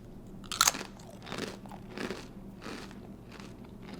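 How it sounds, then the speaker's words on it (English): Crunchy Trader Joe's cauliflower snack bitten once with a sharp, loud crack, followed by several softer rhythmic chewing crunches close to the mouth, without talking. "but listen to the crunch"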